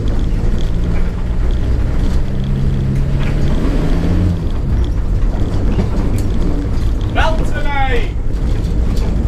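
Ford Transit Mk1 van engine droning as it drives, loud and close in the cabin with a low steady rumble, mechanical rattles and a short whistling squeal near the end.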